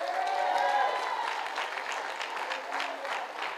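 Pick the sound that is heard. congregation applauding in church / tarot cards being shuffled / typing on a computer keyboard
congregation applauding in church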